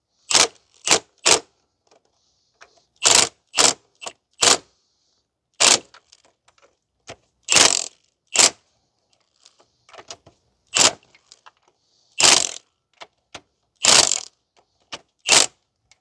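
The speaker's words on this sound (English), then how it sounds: "I'm just going to tighten it up with the impact, and that should be fine" Repeated bursts of an impact wrench tightening engine mount nuts on a 2006 Mazda 3 2.0, loud, short rattling hammer runs separated by silent pauses, ending with a couple of quick taps.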